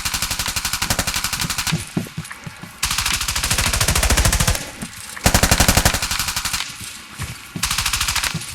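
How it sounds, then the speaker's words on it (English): Sustained machine gun bursts from two gun teams in a live-fire drill, long rapid strings of shots broken by short pauses, loud and close, with no talking. "Gun team 1, go down. Gun team 2, fire."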